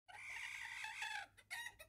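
A hen clucks as a storybook sound effect, a drawn-out squawking cackle followed by two shorter clucks after a brief pause, close and clear with no voices.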